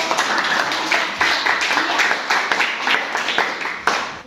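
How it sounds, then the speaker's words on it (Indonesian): Audience applause at an Indonesian school presentation, a dense burst of many hands clapping nearby that pulses and continues steadily for several seconds. "tepuk tangan dulu untuk"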